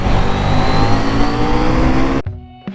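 The engine of a new Husqvarna Svartpilen 801 motorcycle roars loudly and steadily under hard riding, then drops away abruptly near the end, leaving a few fainter engine bursts.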